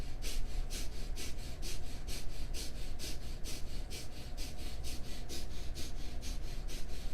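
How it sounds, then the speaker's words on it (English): Kundalini breath of fire: rapid, rhythmic inhales and exhales through the nose, about two to three pulses per second, held steady and close for several seconds with no talking. "this breath is a rapid inhale and exhale through the nose"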